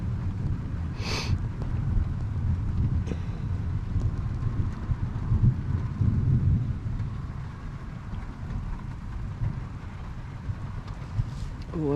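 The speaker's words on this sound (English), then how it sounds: "Thunder." Low, continuous rumble of thunder during a rainy storm in Tulsa under a tornado warning, heard from inside a van, with steady rain and wind noise and a few faint clicks, no talking.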